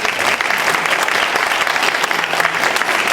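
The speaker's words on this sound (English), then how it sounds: "Another round of applause for Emma." An audience of parents at a school's freshman parent coffee applauds, with loud, dense, sustained clapping that runs throughout with no speech.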